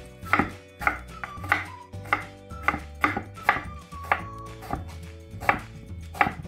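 A knife chops through a firm pear on a cutting board, about a dozen crisp, evenly paced thuds close by, with no talking.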